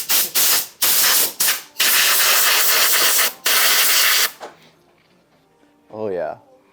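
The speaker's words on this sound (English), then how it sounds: "Yeah, it's a sand blaster, and there it is." A sand blaster sprays sand onto a custom golf wedge in loud, harsh hissing bursts, several separated by short gaps, close up; after the blasting stops, a brief voice and a faint rustle follow.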